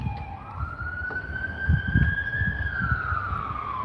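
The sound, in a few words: ambulance siren passing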